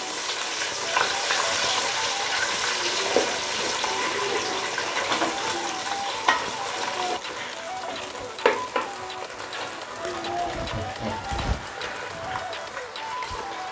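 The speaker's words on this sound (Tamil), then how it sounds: "ஒரு 4 முட்டை ஊற்றிக்கலாம். நல்லா கிண்டி விட்டுக்கோங்க." Eggs frying in hot oil while being stirred, a loud steady sizzle with scraping of a utensil in the pan and occasional knocks, with a person talking over it.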